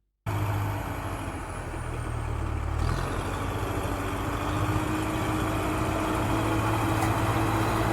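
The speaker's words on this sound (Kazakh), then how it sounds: "Бұл трактор." A tractor engine runs in a steady, loud, rumbling drone for the whole stretch, with a slight shift in tone partway through and no voices.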